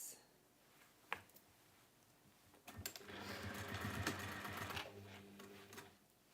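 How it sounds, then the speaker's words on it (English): A sewing machine stitches along the base of a fabric pouch, a steady close whirring hum of about two seconds after a few handling clicks, then stopping. "So we're going to sew along the base."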